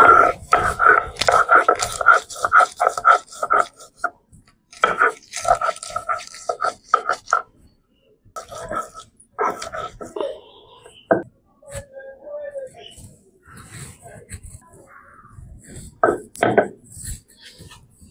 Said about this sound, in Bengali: বেটে নেব রসুন